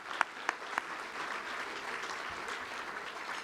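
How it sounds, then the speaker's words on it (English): An audience claps in sustained applause at an alumni hall of fame salute event, a dense wash of many hands with a few sharp nearby claps at the start. "How about another round of applause for these wonderful"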